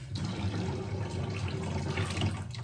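Water running steadily from a tap, a close, constant rushing flow that carries on without a break.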